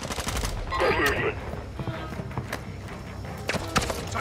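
Sniper rifle shots in the video game Warzone crack out as a few sharp, separate reports spread over several seconds, heard against a busy game background with other soft noises.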